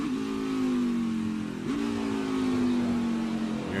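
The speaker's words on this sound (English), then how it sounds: "Hear him downshifting the final few corners here at Indianapolis." Race car engine downshifting through the final corners at Indianapolis, a loud, steady engine note that drops and blips around the midpoint, then settles into a sustained roar.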